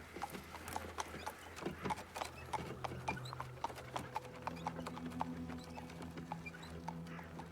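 Horse hooves clip-clop in a steady, busy patter at a roadside post station in the Gubernia in the video game Black Book, where travelers rest and change horses, close and continuous with faint low tones beneath.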